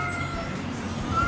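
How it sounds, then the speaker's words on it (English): A cat outdoors in Turkey yowls loudly in an agitated, drawn-out meow, heard clearly over steady background noise. "there's a cat going crazy"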